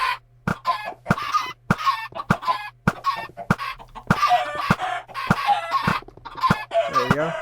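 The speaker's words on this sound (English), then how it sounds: "get some more chickens in here" Chickens in Minecraft cluck repeatedly in quick, overlapping bursts, several birds close by over a steady low hum, with no talking.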